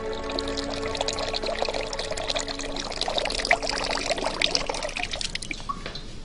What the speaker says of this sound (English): to try and obtain a uniform inflow of water